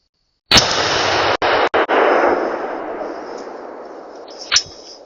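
A single sharp, loud .308 rifle shot fired at a buck, followed by a long rolling echo that fades out over several seconds, with a faint distant thump near the end.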